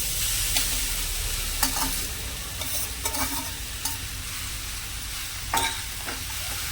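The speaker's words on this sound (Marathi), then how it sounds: "तुपावर आपल्याला हा आंबा आहे ना चांगला परतून परतून घ्यायचा आहे" Mango pieces being sautéed in ghee for a preserve, a continuous loud sizzle with repeated scraping strokes of a spatula against the pan, close by and free of talk.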